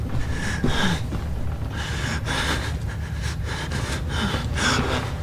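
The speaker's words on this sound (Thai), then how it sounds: "หอบจังเลยครับตัวละคร" The character in the horror video game Outlast pants heavily in a steady rhythm of loud, ragged, close breaths and gasps, with no talk.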